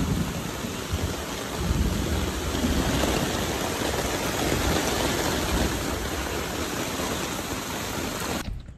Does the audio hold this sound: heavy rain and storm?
yes